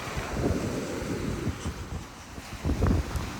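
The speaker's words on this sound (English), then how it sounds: "it's windy" Gusty wind buffeting the microphone on Panama City Beach, low rumbling bursts that swell and fade over a background of surf, fairly loud and close, with no voices.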